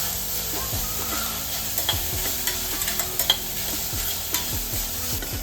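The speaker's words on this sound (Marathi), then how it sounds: "कांदो, टमाटो आणि कढीपत्ता हे सगळं एकत्र टाकायचं। चांगलं परतून घ्यायचं।" Onion, tomato and curry leaves sautéing in a pan, a continuous close sizzle with repeated scraping strokes of a spatula stirring throughout.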